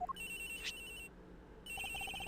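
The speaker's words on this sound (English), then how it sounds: "I'm looking in the locker. The ringing's coming from in here." In the video game Ace Attorney Investigations, a cell phone rings from inside a locker as a faint electronic ringtone of steady tones, a pause, then quick repeated beeping chirps.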